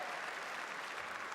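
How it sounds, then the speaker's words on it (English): Crowd at a darts match clapping in a sustained, dense round of applause, loud and even throughout with no break. "terrific round of applause as well for a 135"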